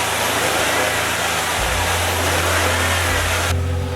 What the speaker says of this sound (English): All three models comes with the same award-winning VQ30D 3-liter V6 engine